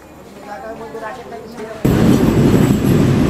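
The Shimanto Express pulls away from Natore station, a sudden loud, dense rumble of moving carriages kicking in partway through after quieter station noise and a voice.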